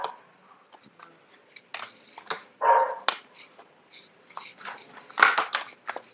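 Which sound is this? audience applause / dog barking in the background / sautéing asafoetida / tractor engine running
dog barking in the background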